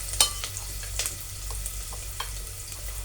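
Skinless chicken pieces frying in a pan for chicken curry, a steady near sizzle with occasional spoon scrapes and taps as it is stirred.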